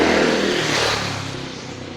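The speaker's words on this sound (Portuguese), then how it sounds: "Deixa eu esperar essa moto passar aqui" Motorcycle with a loud exhaust roaring past on a street, a broad rushing engine drone that starts close and fades steadily as it moves away, with no talk over it.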